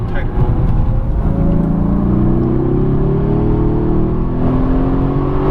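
A 2017 Mercedes-AMG GT S accelerates on a race track, its engine note climbing steadily and loud inside the cabin while an instructor talks over it.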